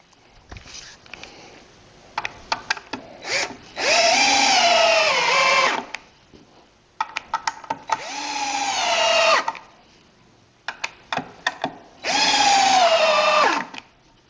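Power drill driving screws into a wooden Moxon vise made from thick stock: three sustained, loud whirring runs of about two seconds each, separated by short clicks and handling knocks.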